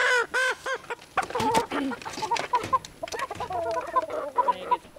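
A flock of chickens, older birds mixed with newly introduced juvenile hens, clucking and squawking close by in a pen, with overlapping calls, sharp bursts and a few longer cackles.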